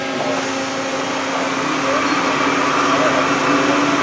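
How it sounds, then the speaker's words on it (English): A Dehoff 4-spindle gundrill machine, model 518C, running as drilling begins with coolant on: a steady, loud mechanical whine and hum with a constant drone, unbroken for the whole stretch. "and then we can start drilling."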